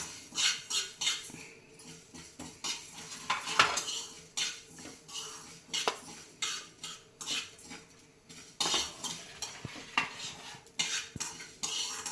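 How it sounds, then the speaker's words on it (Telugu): Fenugreek seeds dry-roast in a pan for an eggplant chutney, with busy metallic scraping and clinking of a spoon stirring against the pan in quick bursts, close and without talk. "మెంతులు బాగా దూరగా వేగిపోయినాయి, చిట్టుపట్టమంటున్నాయి"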